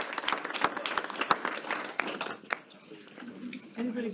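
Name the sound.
audience applause for a state championship team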